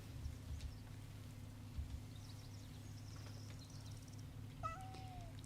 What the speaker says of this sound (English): Oh, a kitty! I want to pet the kitty.